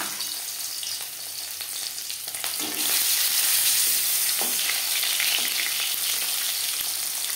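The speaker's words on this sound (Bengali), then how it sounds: "এবার দিয়ে দেব ম্যারিনেট করে রাখা মাছ" Marinated silver carp pieces hitting hot mustard oil set off a loud, continuous hissing sizzle that swells after a few seconds and holds steady, close up with occasional faint clinks and no speech.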